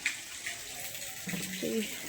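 Water runs steadily from a tap to water vegetables in a home garden, a continuous hissing flow heard close up with no talking.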